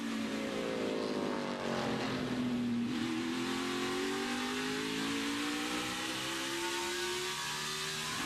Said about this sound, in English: As you ride on board with Jimmy Johnson, listen to his throttle